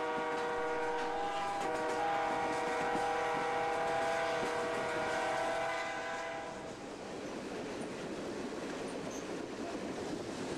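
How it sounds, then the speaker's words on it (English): A 13-car diesel train runs near Coshocton, Ohio, its horn blaring loud and sustained for several seconds before giving way to the rumbling roll of cars along the track. "As our 13-car train dieseled to meet 6325 in Coshocton, Ohio, I wondered what it would be like to see a live U3B once again."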